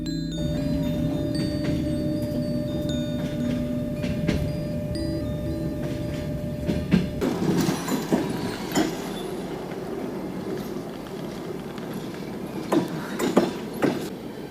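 A Ukrzaliznytsia passenger train pulls away from a station in Ukraine, its steady rumble giving way to louder rolling with rhythmic rail clicks and clatter that continue to the end, with no talking.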